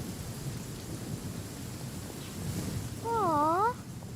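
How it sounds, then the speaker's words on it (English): Heavy rain falls in the video game Genshin Impact, a dense, steady hiss with low rumbling, as a voice briefly speaks with a rising-falling intonation near the end. "It's raining so hard."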